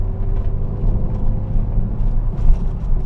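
Renault Megane RS hot hatch engine pulling hard through corners on a back road, a steady loud low-pitched drone and rumble from inside the cabin with slight surges, no voices.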